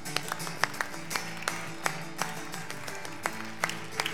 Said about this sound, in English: Last time, clap twice.